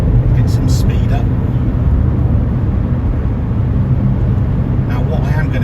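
Smart car engine building speed while driving, a steady loud low drone of engine and road noise filling the cabin throughout, with no voices heard.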